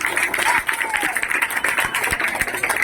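An audience at a prize-distribution event in West Bengal bursts into sustained applause. Dense clapping from many hands fills the room, with a voice faintly audible underneath.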